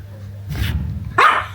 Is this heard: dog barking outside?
yes